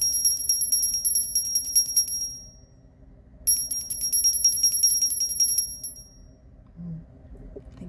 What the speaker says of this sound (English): I want to ring some bells, clear the air, let some angels get their wings.